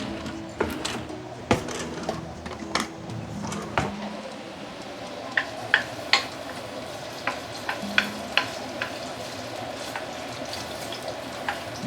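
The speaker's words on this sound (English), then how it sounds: "The oil is going to splatter." Ginger dropped into hot oil for fried mee suah, sizzling and splattering close by, with sharp clacks of a utensil against the pan early on, then a steady crackle dotted with popping spits.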